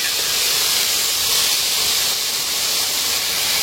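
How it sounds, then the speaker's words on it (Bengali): Vegetables fry in a pan for khichuri, giving a steady, loud hiss of sizzling oil with no break and no voices. "আর এই যে সবজিটা ভাজা করে নিচ্ছি আগে ভালো করে"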